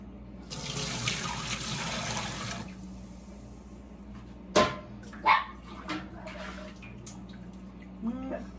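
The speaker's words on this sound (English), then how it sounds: "Neighbor's dogs are out." Water runs from a tap for a couple of seconds, then a few sharp dog barks ring out at a distance, scattered across the rest.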